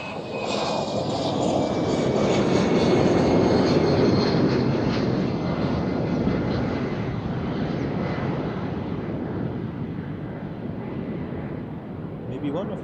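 An airliner at Amsterdam Schiphol Airport roars steadily and loudly, its broad jet rumble holding for the whole stretch with a high engine whine slowly sliding downward as it passes.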